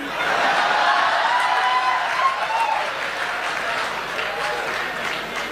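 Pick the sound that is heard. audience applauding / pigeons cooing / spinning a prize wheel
audience applauding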